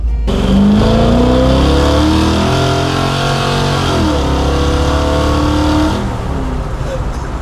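A car engine revs hard at full throttle during a burnout, a loud rising and falling roar with climbing harmonic sweeps that holds for several seconds and then drops off near the end, heard from close by.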